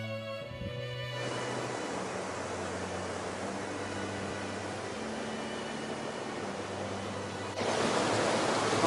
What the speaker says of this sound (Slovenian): tole tukaj je pa reka Mostnica